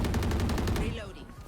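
Rapid automatic gunfire rattles out in a video game shooter, a quick string of close, loud shots about a second long that then trails off.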